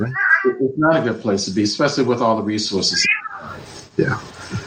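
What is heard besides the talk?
pet cat meowing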